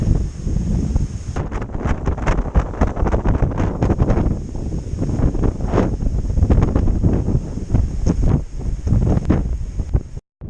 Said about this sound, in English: I'm guessing you can hear the wind.